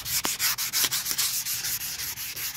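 40-grit sandpaper scrubs back and forth over body filler on a car being prepared for smash repair, a steady rhythmic rasp of repeated strokes heard close and alone.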